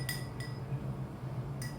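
A few light clinks of a utensil against a glass bowl set over simmering water, stirring white chocolate, spaced apart over a soft steady background hum.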